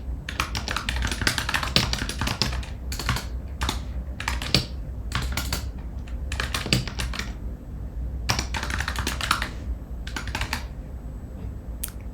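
A full name is typed on a computer keyboard as quick bursts of close, crisp key clicks separated by short pauses.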